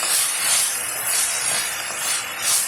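Tomatoes sautéing with salt in a pan, a steady soft sizzle and hiss that swells and eases gently, alone with no talk.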